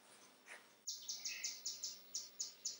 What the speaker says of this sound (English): That bird is so loud. I think they're fighting.